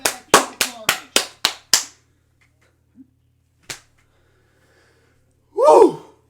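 About seven quick, close claps from a single person on a podcast burst out in a short run, then trail off into silence with one stray clap and a brief breathy vocal noise at the end.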